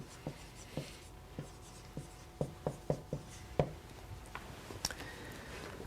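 Chalk or marker writing on a board during a linear algebra lecture, a series of distinct tapping and scratching strokes at an uneven rhythm, close and clear in a quiet room.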